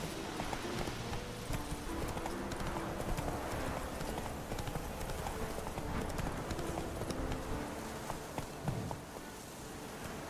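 Horse hooves gallop in a steady rapid clip-clop rhythm through a medieval open-world game scene, with continuous ambient noise and insect-like buzzing beneath.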